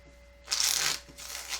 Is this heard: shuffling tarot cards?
yes